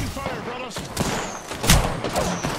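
Bursts of gunfire ring out in an Apex Legends match, a rapid volley of close, loud shots with a heavy thump near the middle, while a voice talks over the action.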